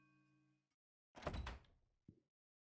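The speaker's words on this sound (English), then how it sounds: "Suddenly the door opened and I heard the click of a gun cocking behind me." Door opening in the visual novel game Chaos Child: a soft tonal sound fades out, then after a short silence comes a loud close thud and rattle, followed by a brief second knock.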